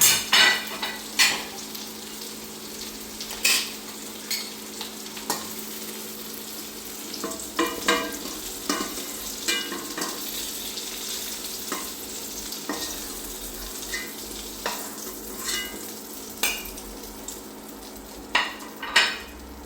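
Potatoes fry in a pan under a continuous soft sizzle, with frequent sharp clinks and scrapes from a spatula stirring and turning them; no one speaks.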